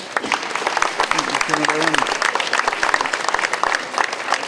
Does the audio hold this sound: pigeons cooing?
no